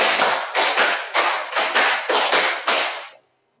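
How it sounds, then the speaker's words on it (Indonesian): A classroom of students clap in a counting game, sounding two quick rounds of five loud, close, sharp hand claps in a brisk rhythm that stops abruptly into silence. "tepuk 5 2 kali"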